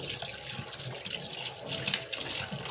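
Tap water runs steadily into a sink as cut food is rinsed, a continuous close splashing hiss with small bursts of spatter and no voices.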